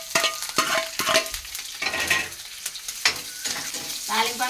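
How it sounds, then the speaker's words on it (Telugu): Tempering for rice sizzles and fries in a pan, with close metallic stirring scrapes and clinks breaking through a steady hiss. "తాలింపు అన్నం వండేస్తున్నాను ఫ్రెండ్స్"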